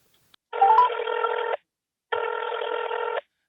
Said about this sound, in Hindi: ये हम अमार शाह को फोन करते हैं।